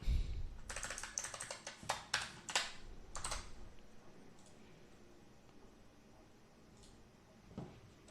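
Arrow keys pressed on a computer keyboard while testing a GTK C++ Breakout game, a quick burst of sharp clicky keystrokes close by that tapers into a few isolated taps.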